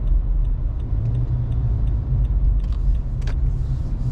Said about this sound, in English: There's construction going on here. That's why the traffic was piled up.